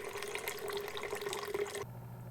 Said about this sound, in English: after it's done flushing the internal reservoir, it'll attempt to fill it back up